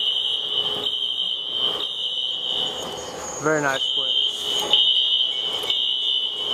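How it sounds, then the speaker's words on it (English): A fire alarm in a seniors apartment building sounds a steady, piercing high-pitched tone that runs without a break, while someone talks over it nearby. "Apologies for the fire alarm."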